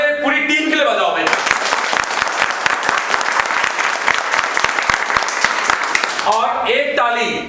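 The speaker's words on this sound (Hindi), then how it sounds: "एक ताली हमारे पूरी टीम के लिए बजाओ भाई" Loud, dense applause for a whole team of technicians at a new batch launch, sustained for about five seconds between stretches of a voice addressing the audience before and after.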